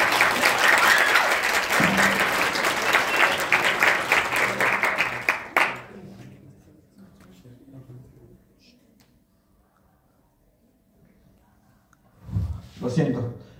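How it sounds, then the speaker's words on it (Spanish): An audience at a school group presentation on mental health bursts into dense, loud applause lasting about five seconds, then cuts off to near silence before a voice begins speaking. "Aplausos."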